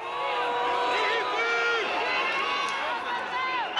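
A large crowd of 500 to 600 people massed outside the Brussels courthouse boos, whistles and shouts angrily, a dense continuous roar with rising whistles throughout.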